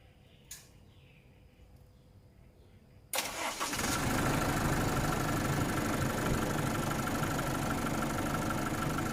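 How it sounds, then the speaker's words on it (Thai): After a quiet stretch, a car engine cranks and catches suddenly, then settles into a loud, steady idle that continues to the end. "เดี๋ยวผมจะไปสตาร์ทเครื่องยนต์นะครับ"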